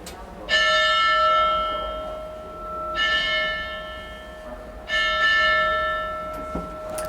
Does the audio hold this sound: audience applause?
no